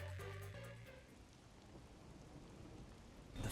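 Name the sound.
rain sound in video game Master Detective Archives: Rain Code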